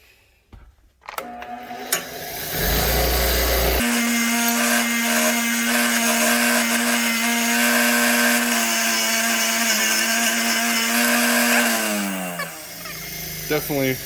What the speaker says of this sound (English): I'll run it on the wire wheel and clean it up.